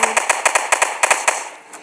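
A rapid series of about a dozen sharp, punchy blasts in quick succession, mortars firing together in the video game Tower Battles, fading out toward the end.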